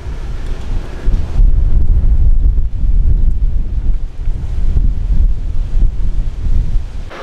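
Strong wind blows outdoors near a hillside fire, roaring steadily and buffeting the microphone with loud, low rumbling gusts throughout.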